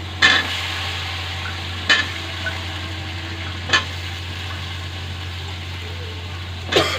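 Amaranth stems frying in spice paste in a pan are stirred, with a low steady sizzle broken by four sharp scraping stirs spaced a second or two apart.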